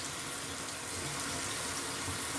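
Water runs steadily from a tap while harvested garden produce is rinsed, a soft, even hiss close by with no talk.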